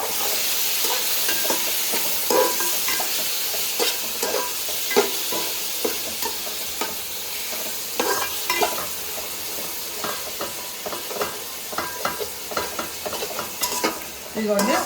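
Mutton keema pulao stirred in a pot, with repeated scraping and clattering strokes over a continuous frying sizzle lasting throughout, close and fairly loud, no talk.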